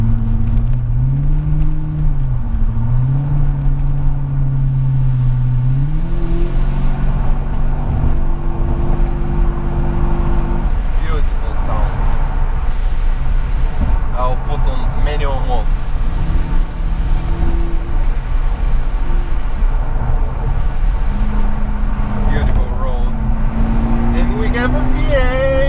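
A BMW 745i E65 with a cut-off valve fitted, driven through town and heard loud through an open window, its engine climbing through revs then settling into a steady drone, with someone talking over it.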